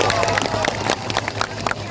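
Crowd applause at a large campaign rally in Lampung, clapping and cheering mixed with a babble of voices from a big gathering, fairly loud and continuous.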